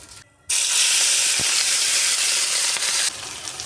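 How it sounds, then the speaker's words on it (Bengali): Puti fish drop into hot oil and burst into a loud, steady sizzle that starts abruptly after a brief quiet moment and continues close up, easing slightly near the end. "দেখো তেলটা গরম হয়ে গেছে, আমি মাছগুলো দিয়ে দেব এবার।"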